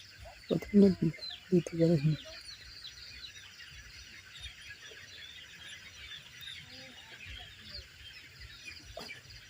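Colour-bird broiler chickens about 45 days old, gathered into sacks for loading, let out a few loud, close squawks and clucks early on, then settle to faint scattered clucking over a quiet farm background.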